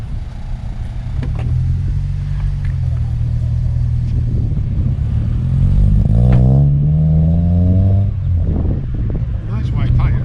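A Ford Sierra on Toyo R1R racing tyres drives along a road with a steady loud engine rumble and a rising rev partway through, heard close from inside the car.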